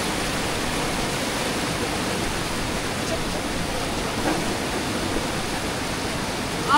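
Bruti Waterfall in Islamabad roars as a steady, broadband rush of falling water, close and continuous with no break.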